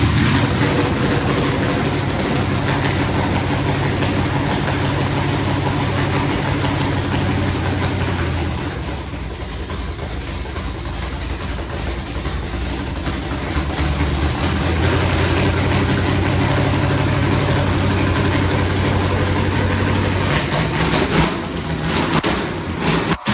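A derby build car's engine runs loud and close in a rough, heavy idle for over twenty seconds, with a brief dip in the middle before the steady rumble returns.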